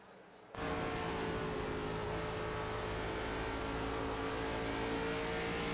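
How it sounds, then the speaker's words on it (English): A race car engine in an ARCA Series race on an oval track in Iowa roars in after a brief quiet moment, holding a loud, steady high-revving drone close by for the rest of the stretch. "Hear those RPMs as Lucas going to get in the wall again."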